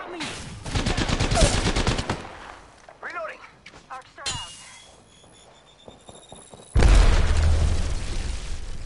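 Video game combat with gunfire and a grenade blast: rapid bursts of shots up front, scattered pops and clatter in the middle, then a heavy loud boom that rumbles on to the end, with voices talking throughout.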